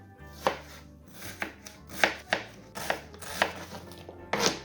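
Knife slicing through onions on a cutting board for a grilled vegetable pizza, about nine sharp, evenly spaced chops ringing out close and clear with no talking.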